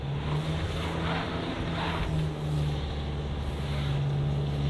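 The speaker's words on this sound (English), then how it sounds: "So let's go for the throttle." A 2022 Hyundai Tucson in terrain mode accelerates off-road under throttle, its engine droning steadily with a sustained drivetrain whine over rumbling tire and gravel noise, close and fairly loud.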